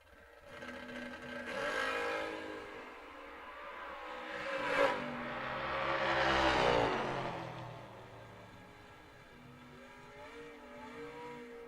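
Door cars launching at a drag race, heard from a distance as engines swell into a roaring wave, peak with a sharp burst and fade down the track, followed by a quieter second rise.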